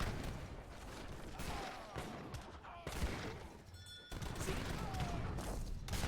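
Organ guns firing in an Age of Empires III battle, a dense rolling fusillade of crackling volleys amid constant battle din, with casters talking over the gunfire.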